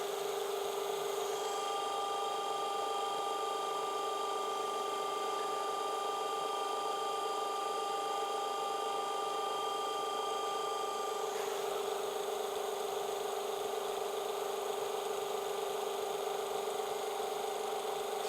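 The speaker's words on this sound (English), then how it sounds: "oh, and there goes the motor again." A small battery-powered electric motor runs with a steady, thin whine and hum that continues evenly throughout, faint and alone with no talk.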